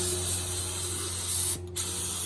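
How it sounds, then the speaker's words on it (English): A spray gun hisses steadily while laying clear coat on a 1979 Gottlieb Count Down pinball playfield, a close continuous spray broken by a brief pause, with a faint hum beneath and no talk. "You can make sure it's spraying a nice clean fan."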